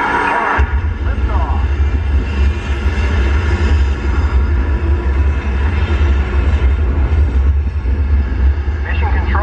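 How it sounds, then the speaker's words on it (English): Simulated rocket launch rumble on the Mission Space ride at Epcot, a loud continuous low roar starting abruptly and holding steady, with announcer voices over it. "We have main engine start."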